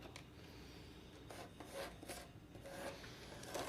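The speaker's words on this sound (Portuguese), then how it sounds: "Passa um traço com lápis." A pencil scratching along a ruler on wood, drawing a short line beside a drilled hole, a faint, close, dry rubbing in a few brief strokes.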